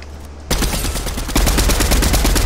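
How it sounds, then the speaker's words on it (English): Rapid automatic gunfire in a shooter video game, a loud, close stream of quick shots that starts abruptly and keeps rattling with no talk. "Somebody's shooting me from the back."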